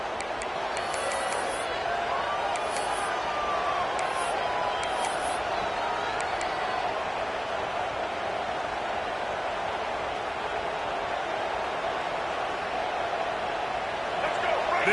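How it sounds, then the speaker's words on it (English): A football stadium crowd at a crosstown rivalry game keeps up a steady, dense roar through the whole stretch, under a commentator's ongoing play-by-play talk. "This crowd going to try to make life miserable for these guys."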